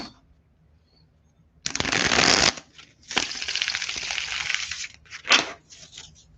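Tarot cards being riffle-shuffled close by in two longer bursts and a shorter one, a crisp fluttering rattle with quiet pauses between.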